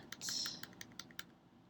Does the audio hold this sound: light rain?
no